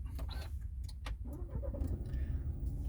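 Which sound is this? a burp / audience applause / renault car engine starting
renault car engine starting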